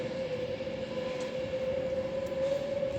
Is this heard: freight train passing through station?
yes